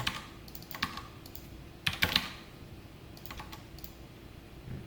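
Someone types on a computer keyboard while writing code, pressing the Ctrl key among other keys. Keystrokes are sparse and close, with small clusters of quick taps over a low, steady room hum.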